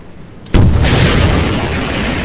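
A gunship blows up in Half-Life 2 with a sudden loud, heavy boom, followed by a long, dense rumble that carries on without speech.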